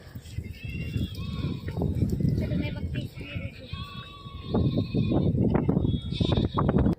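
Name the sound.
sheep bleating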